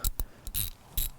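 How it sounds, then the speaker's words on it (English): A ratchet loosening the bolt on a Saris MHS hitch bike rack in a cramped space, a few quick close clicks in short bursts with brief pauses between them. "This thing, you need a ratchet, by the way."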